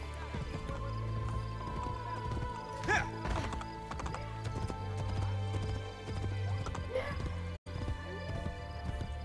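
Horse hooves clip-clop steadily at a gallop in the video game Assassin's Creed Brotherhood, with a whinnying neigh breaking through around the middle, all loud and close with game ambience underneath.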